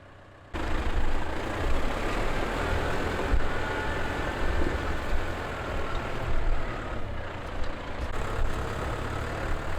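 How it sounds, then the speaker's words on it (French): A tractor engine labors steadily uphill across a soggy, muddy field on an Ariège farm, a continuous loud rumbling drone that kicks in abruptly and holds without pause. "même avec ce tracteur, Jean-Louis a énormément de mal à monter dans le champ pour rejoindre la cuve"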